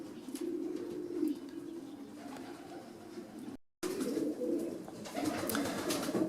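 Pigeons coo in low, rolling murmurs in a breeding loft, several birds cooing together steadily indoors, with a brief silent break midway.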